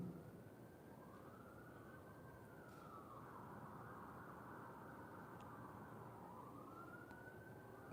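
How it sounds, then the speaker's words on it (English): A distant police siren wails, rising and falling slowly in long sweeping cycles, faint over a steady low hum. "There's a police car, the sound."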